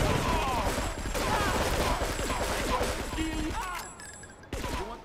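Gunfire in GTA III, rapid overlapping shots mixed with street chaos and other game sounds, steady and loud for about four seconds before a short break and a final burst, with someone talking over it.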